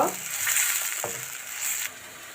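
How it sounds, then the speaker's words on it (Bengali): Chopped onion, green chilli and garlic frying in hot oil for a radish-greens stir-fry, a steady close sizzle with a soft stir or clatter midway and the hiss easing near the end. "হালকা করে পেঁয়াজ, কাঁচামরিচ, রসুন কুচি ভেজে নেব।"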